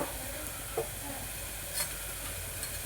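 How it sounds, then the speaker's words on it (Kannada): Ground paste going into a hot pan for mushroom pulao, a soft sizzle with a few stirring clinks and scrapes, close but fairly quiet. "ಇವಾಗ ರುಬ್ಕೊಂಡಿದ್ದು ಪೇಸ್ಟ್ ಹಾಕ್ತೀನಿ."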